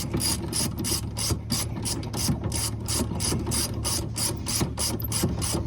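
Steady rapid clicking of a ratchet wrench tightening upper A-arm bolts on a Club Car golf cart, close and continuous with even strokes and no talking.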